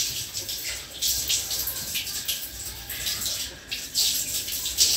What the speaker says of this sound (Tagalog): Masarap naman ang shower ni Loreng sa lababo, Loreng.